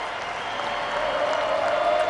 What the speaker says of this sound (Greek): χειροκροτείται η ΑΕΚ